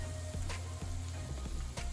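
Aloo tikki potato patties frying in a pan give a steady, soft, close sizzle, with a few faint clicks and pops and no talking.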